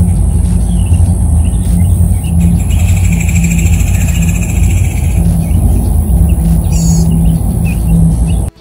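Birds of several species chirp and trill in a lively chorus at the Celery Fields in Sarasota County, over a heavy, steady low rumble, calls scattered throughout before the sound cuts off abruptly.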